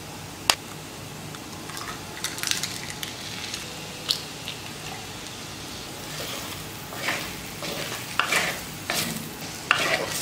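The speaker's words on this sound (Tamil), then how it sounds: "முட்டை உடச்சி ஊற்றிக்கலாம்." Raw egg cracked into a pan of sautéed potato masala for potato egg rice, stirred steadily with a spatula over soft sizzling frying, scraping clicks and taps scattered throughout, close and moderate.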